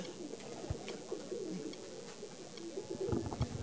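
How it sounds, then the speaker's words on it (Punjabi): A pigeon coos softly nearby in repeated low, throaty phrases over a faint background hum, with no talking. "ਤਾਂ ਸਰਵਣ ਸਿੰਘ ਹੋਰਾਂ ਨੇ ਜਦੋਂ ਕਿਸੇ ਕਬੂਤਰ ਦੀ ਮਾਂ ਮਰ ਜਾਂਦੀ ਹੈ ਤਾਂ ਉਸ ਕਬੂਤਰ ਨੂੰ ਕਿਵੇਂ ਜਿੰਦਾ ਰੱਖਣਾ ਹੈ"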